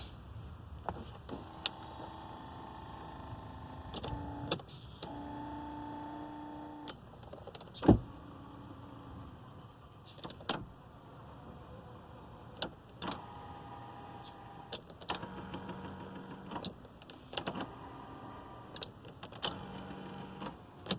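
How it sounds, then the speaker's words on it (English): The power driver's seat motor of a 2001 Mercury Grand Marquis GS whirs in several separate bursts, stopping and starting with faint clicks between runs in a quiet car interior. "The driver's seat is actually power."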